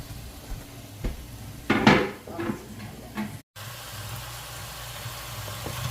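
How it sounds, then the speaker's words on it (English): A spoon scrapes and clanks against a pot as green seasoning of broad leaf thyme and culantro is stirred in for a Guyanese shrimp stew, a few close metallic strokes over a low steady kitchen hum. "I'm gonna stir this in"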